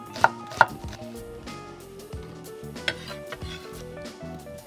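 An onion being chopped with a knife on a board, two sharp close knocks followed by quicker, softer cuts, with no talking.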